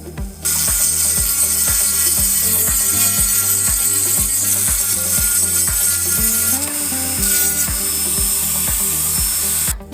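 A Dremel 3000 rotary tool running on a test bench after its gearbox gears were polished and a bearing replaced, giving a steady high motor whine with a rapid, regular ticking gear rattle, loud and close, with a brief pitch shift near the middle.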